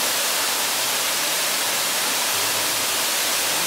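Montezuma waterfall in Costa Rica, a loud, steady broadband roar of falling water heard up close, unbroken throughout with no voices.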